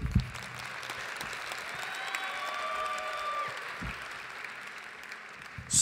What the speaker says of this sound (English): This is the bit where you clap.